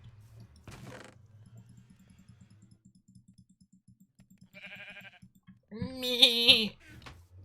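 A person imitates a sheep during a Minecraft game, giving one wavering, nasal bleat near the end after a quieter bleating sound and soft low clicks, with no other voices.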